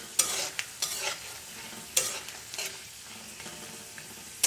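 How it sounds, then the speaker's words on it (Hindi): Raw peanuts fry in a little oil while a spoon stirs them, giving a quiet sizzle broken by several sharp scraping strokes against the pan, with nobody talking. "तो इसमें मैं थोड़ी सी तेल में फ्राई कर ले रही हूँ"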